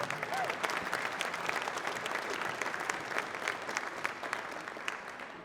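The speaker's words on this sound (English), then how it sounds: "Let's give these individuals a nice round of applause." Audience applause at the Hartnell College Hall of Fame induction ceremony, a steady crowd of clapping hands sustained at moderate loudness for several seconds with no pause.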